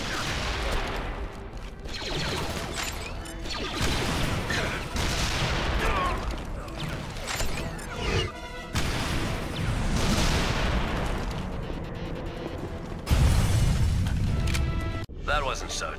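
Weapon blasts and booming rocket-launcher fire from the Star Wars: The Clone Wars video game, dense and continuous over game music and effects, with character dialogue throughout.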